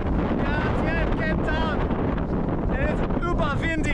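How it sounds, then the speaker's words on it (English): Strong wind blowing on a beach buffets the microphone in a constant loud roar, with voices and whistling calls heard over it. "It got pretty windy here"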